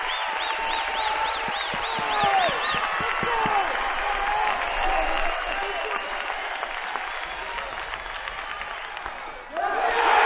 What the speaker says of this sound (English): And the crowd at Founders Park letting you know